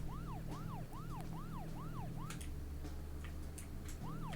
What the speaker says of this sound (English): You always have to hear the sirens going